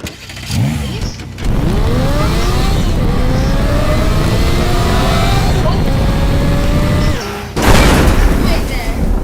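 Car engine revving hard during a nose drift in the video game Teardown, a loud sustained roar with rising and falling pitch sweeps, cut by brief gaps and an impact, while a person talks over it.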